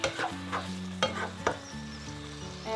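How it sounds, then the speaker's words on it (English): Paneer cubes stirred into kadai gravy in a pan, a steady sizzle running under several sharp scraping stirs of a spoon against the metal, close by with no talking. "Finally, I'm going to add my paneer to the gravy."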